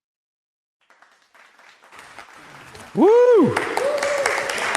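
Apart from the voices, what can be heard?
studio audience applauding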